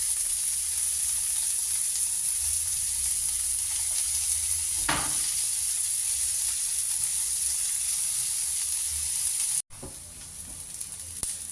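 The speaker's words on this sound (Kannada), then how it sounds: "ಇವಾಗ ಆನಿಯನ್ ಹಾಕ್ತಾ ಇದ್ದೀನಿ." Onions frying in a pan with oil for a chicken tikka masala fry, giving a steady, close sizzle throughout with a brief clatter midway and a short dip near the end.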